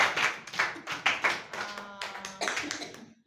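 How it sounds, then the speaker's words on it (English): A small group claps for a student in an English-speaking class, short uneven bursts of hand claps close by, fading into a few scattered taps. "Please clap for her."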